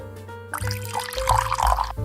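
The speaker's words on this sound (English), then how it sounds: "you want to take the soy sauce, pour a bunch of it in" Soy sauce poured into a pan of sweating onions, a short sizzling, trickling pour that swells louder midway and stops abruptly near the end.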